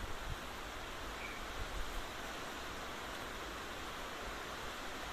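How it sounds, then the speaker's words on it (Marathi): Steady, soft rain falls outside, a broad even hiss of drops with no clear gaps, heard faintly in the background while a curry simmers indoors. "बाहेर पाऊस चालू आहे"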